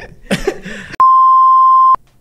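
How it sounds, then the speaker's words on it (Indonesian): A single loud, steady censor bleep tone lasting about a second cuts in right after a burst of speech. "Tolong Bip"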